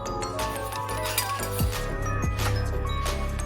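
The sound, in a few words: fry pan being placed for cooking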